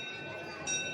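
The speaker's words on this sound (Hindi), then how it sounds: "घंटी बजाना बंद करो" A temple bell rings at Shri Dev Baba Kalyan temple in Jaitpur Kopra, giving a sustained metallic hum that is freshly struck partway through and swells slightly louder.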